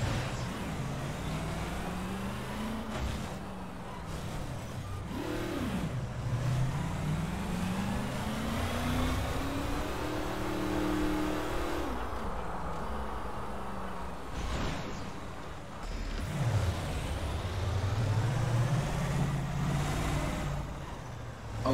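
A car in Garry's Mod drives and drifts, its engine droning continuously as the pitch repeatedly climbs and falls with each slide and throttle change, with no talking.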